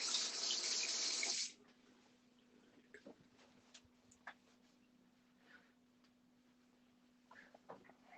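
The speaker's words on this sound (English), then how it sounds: "just wash my hands again" Kitchen tap water runs loudly over hands for about a second and a half while someone prepares dinner, then cuts off, leaving faint drips and small clicks over a low hum.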